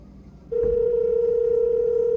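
A mobile phone call to a girlfriend, where a steady unbroken tone suddenly starts and holds loud and constant until the end, with quiet room noise before it.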